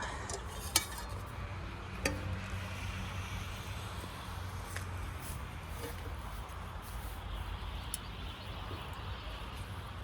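Greens such as petchay are stirred together with sardines in a pan: repeated scraping and light utensil clinks against metal over a steady low background hum, with occasional sharper taps.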